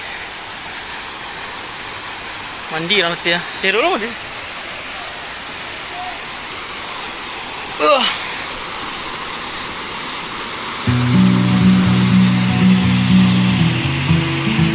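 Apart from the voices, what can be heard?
waterfall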